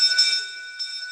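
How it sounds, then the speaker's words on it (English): A bell rings once at a Rotary Club of Sydney meeting, a clear bright strike that rings out and decays over about a second, with a faint second touch near the end. "I will ring the bell."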